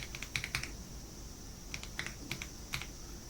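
Computer keyboard typing out a date, clusters of quick, faint keystrokes in short bursts separated by pauses, alone in a quiet room.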